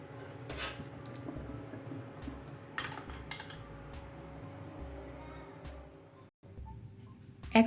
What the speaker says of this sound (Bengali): আমি নুডলসের মধ্যে দেওয়ার জন্য বরবটি গাজর টমেটো পেঁয়াজ কাঁচামরিচ সেগুলো কেটে নিচ্ছি